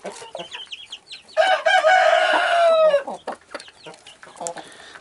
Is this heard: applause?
no